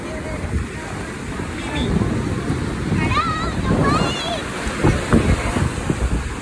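Ocean surf breaks on a Gulf Shores beach, a broad rolling wash mixed with gusting wind noise, while people talk and call out over it.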